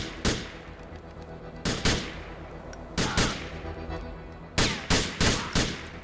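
Gunfire in the video game GTA IV, with loud, close bursts of shots in several rapid clusters separated by brief pauses over a steady background of game noise. Nobody speaks.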